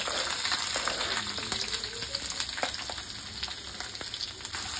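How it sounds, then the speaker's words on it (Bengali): Chopped onions frying in a pan over garlic and ginger paste, a steady close sizzle with occasional soft stirring scrapes, heard alone without talk. "এগুলো লাল হওয়া অবধি ভাজবো পেঁয়াজগুলো।"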